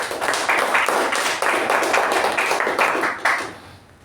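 Applause for the Toastmaster at a Toastmasters club meeting: a room of people clapping steadily for about four seconds, with fairly close, dense claps that fade out toward the end.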